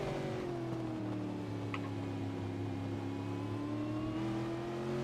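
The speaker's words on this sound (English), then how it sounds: "You can still hear Luke Harvey in absolute fuel conservation mode, trying to save every single drop of fuel he can" A Mazda race car engine in an online Supercar Championship sim race at Daytona drones steadily at a constant pitch, loud and continuous, with no talk over it.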